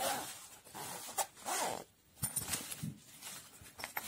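A quiet zipper on a pouch rasps in short bursts, opened and pulled in a few quick strokes, close by with light handling noises.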